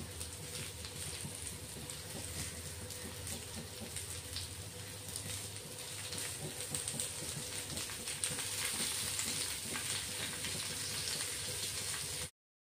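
Okra and tomatoes cooking on a tawa over low heat give a soft, continuous bubbling sizzle, faint and steady throughout, briefly swelling louder before cutting off.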